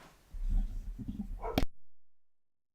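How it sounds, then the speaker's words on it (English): Pet dog indoors during a live football watchalong stream, giving a few soft whimpers and low yips that end in one sharp bark before the sound cuts off abruptly. "Apologies for my dog."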